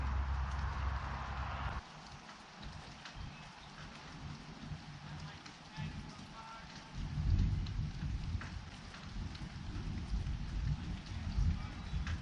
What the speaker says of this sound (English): Thunder sounds a little farther away.